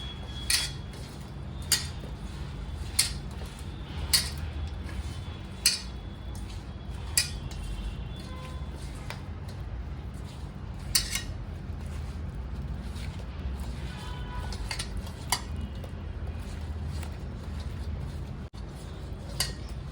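Raw banana slices are tossed with salt and chili powder in a bowl, producing steady light clinks and scraping taps at a regular rhythm, close and moderately quiet with no talking.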